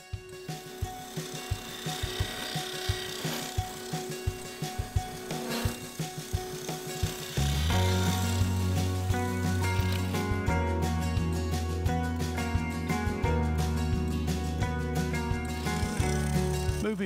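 A large negative rake scraper works a yew hollow form spinning on a wood lathe, a continuous close rasping scrape that grows louder and harsher partway through, with no talking.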